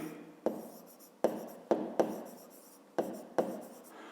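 Chalk or marker writing on a board during a fifth-grade maths exercise: six sharp tapping strokes, each followed by a short scratchy trail, spaced irregularly and close up, with no talk.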